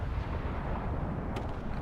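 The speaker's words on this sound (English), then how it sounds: "There's the explosion, very nice" A naval warship game salvo explosion produces a dense, continuous low rumble with a heavy roaring body, holding steady throughout with a faint crackle near the end and no voices.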